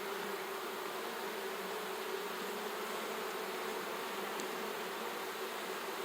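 Bees buzz densely inside a strong, crowded hive, a steady close-up drone of many wings with no pauses or voices.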